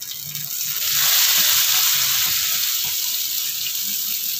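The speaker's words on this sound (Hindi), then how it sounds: "अब हम डाल देंगे इसमें प्याज।" Chopped onions drop into melted butter for dhaba-style kadai chicken, setting off a steady, loud hissing sizzle that swells after the first second and holds evenly, close by, with no talking.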